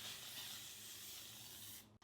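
L'Oreal Infallible 3-Second Mist setting spray hisses from its bottle in one steady, fine, continuous spray that cuts off abruptly at the end, close up and alone with no voices.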